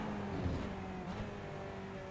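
GTE race car at Road Atlanta, engine droning steadily and fairly faintly at sustained high revs as it runs flat out through a section, with no voices.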